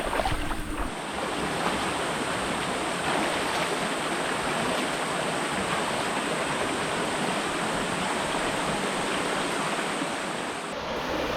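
Continuous rushing creek water, a dense steady flow over loose mossy rocks and rapids, loud and close, with some wind buffeting the microphone.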